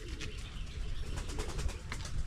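Pigeons coo softly close by with occasional bursts of wing flapping, over a steady low background rumble.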